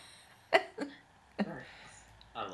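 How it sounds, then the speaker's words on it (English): A few short coughs and throat-clearing bursts, spaced irregularly over a couple of seconds, close and fairly quiet during a radio interview. "I'll edit out the coughing"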